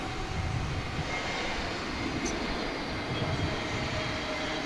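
An airplane flies over DFW International Airport, heard as a steady, broad roar that holds at an even level throughout.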